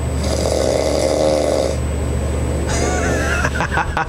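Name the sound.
loud snoring of a sleeping person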